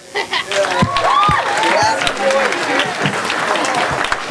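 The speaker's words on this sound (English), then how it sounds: "Give them a round of applause." A church congregation applauds two volunteers playing Simon Peter and Jesus in a skit, dense clapping with some cheering and a voice or two rising through it, loud and close, fading slightly toward the end.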